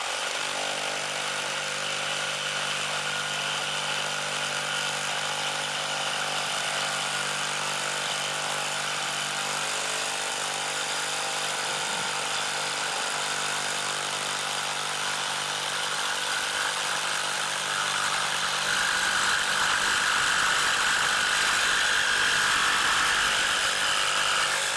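A DeWalt FlexVolt reciprocating saw cuts through 1/4 inch steel angle iron, a loud, continuous rasping buzz of the blade on metal running for about twenty-five seconds, growing slightly harsher near the end.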